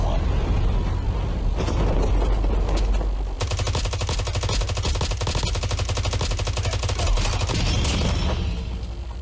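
Rapid bursts of automatic gunfire in the video game Call of Duty Mobile crackle almost nonstop, with dense volleys of shots and loud, sharp reports layered over one another throughout.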